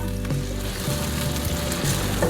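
Loud, steady sizzling and crackling as onion fries in hot oil, close up, with a faint low hum underneath.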